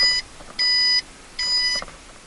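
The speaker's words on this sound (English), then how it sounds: "so it's beeping at me, which means it's running" Three electronic beeps in a row from a BlackVue dashcam, short, clear and high-pitched, with brief quiet gaps between them and no talking.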